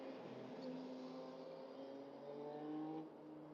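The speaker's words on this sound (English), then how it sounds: "It is a motorcycle." A motorcycle engine drones steadily as it passes on a road in Mount Isa, Queensland, its pitch shifting slightly before the sound drops off near the end.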